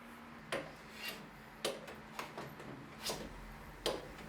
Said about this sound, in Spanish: Emprolijo esta superficie usando primero un cepillo de testas y luego un cepillo alisador